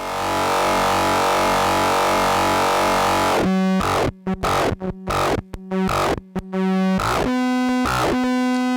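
A harsh, distorted FM synthesizer drones loudly, then breaks into choppy, gated stabs with abrupt cutoffs and returning buzzy tones; no voices.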